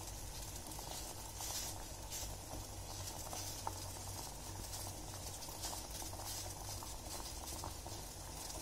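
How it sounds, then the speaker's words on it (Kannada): Lemons simmer in a pot of water at a full boil, giving a steady, continuous bubbling and hissing that stays even throughout, with no voices. "ನೀರು ಕಾಯ್ತಾ ಇದೆ ಇವಾಗ ಫುಲ್."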